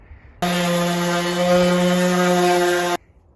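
A DeWalt power sander working on wood, starting abruptly and holding a loud, steady motor whine with strong harmonic hum for about two and a half seconds before cutting off.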